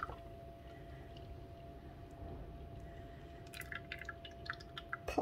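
Homemade buttermilk is poured into a bottle with faint trickling and scattered drips, quiet against a steady low hum, the drips growing clearer toward the end.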